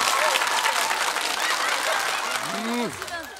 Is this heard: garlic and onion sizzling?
no